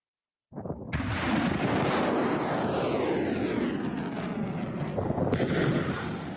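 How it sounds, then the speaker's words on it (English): U.S. missiles launching in the opening phase of a military operation, in news footage: a loud, sustained roaring rush that starts abruptly and holds steady for several seconds, with a fresh surge of noise near the end and no voices. "Those are U.S. missiles launched in the opening phase of the operation."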